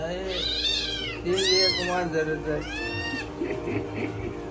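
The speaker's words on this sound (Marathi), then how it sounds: "तीन मांजरी येऊन लगेच थांबले" One of three cats meows three times in long, drawn-out cries, close and loud, over a steady low hum.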